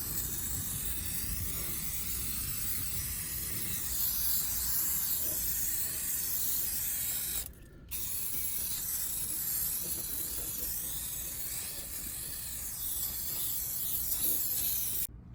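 An aerosol spray paint can coats a car's undercarriage, a steady, close, continuous hiss lasting many seconds with one brief pause midway, and no talk.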